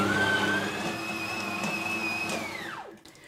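Stand mixer kneading spelt bread dough, a steady loud motor whine with a rising pitch that winds down and cuts off near the end.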